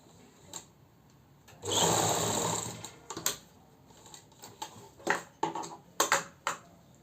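Sewing machine stitching palazzo pants, one close burst of fast running stitches lasting about a second, followed by scattered clicks and knocks of the machine and fabric handling.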